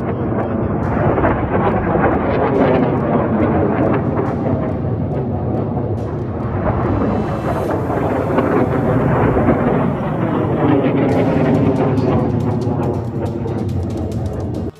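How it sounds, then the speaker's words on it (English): Ukrainian HIMARS launcher firing a salvo of 18 GMLRS missiles at Russian targets: a sustained, loud, broadband roar with rumbling thunder-like booms and surges throughout, no talking. "this massive Ukrainian Himars strike firing 18 GMLRS missiles at Russian targets"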